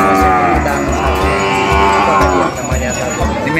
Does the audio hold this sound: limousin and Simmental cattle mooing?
yes